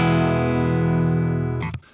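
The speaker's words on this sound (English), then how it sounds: "So without the pedal on, it sounds like this." Clean electric guitar with the Boss DS-1 distortion pedal bypassed, which still adds a slight edge: one sustained chord rings loudly and evenly, then is muted with a brief scrape near the end.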